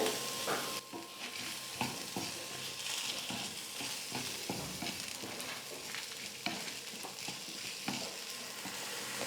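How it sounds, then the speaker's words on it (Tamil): Onions and pieces of coconut sauté in oil for a mutton kulambu, a close crackling sizzle broken by frequent spoon stirs and scrapes against the pan. "நான் இதிலே வந்து கொஞ்சம் எண்ணெய் சேர்த்து வதக்கிக்கிறேன்."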